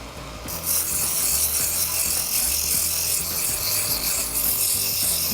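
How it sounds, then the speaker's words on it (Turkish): Steady dry rasping and rubbing, like sandpaper worked back and forth over wood, close and continuous with no talking. "Bu işlem için ise zımpara kağıdı kullanacağız."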